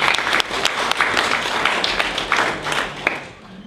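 An audience at a Green Party general meeting applauds, dense steady clapping from a crowd that fades slightly toward the end.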